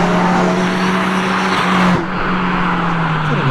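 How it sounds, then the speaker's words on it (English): Subaru Impreza race car on a hillclimb course, a loud continuous engine roar with a steady tone that shifts pitch briefly, close and alone without talk. "Joshua Swain on the track with the Subaru Impreza."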